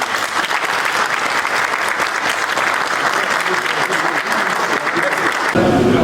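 A general assembly of a sports federation applauds by acclamation to open its elective meeting, a dense, sustained burst of clapping from many hands in an indoor hall, loud and even throughout.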